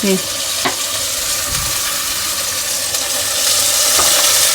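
Tomatoes fry in oil in a clay pot with a loud, constant sizzle and crackle close by, and occasional stirring knocks.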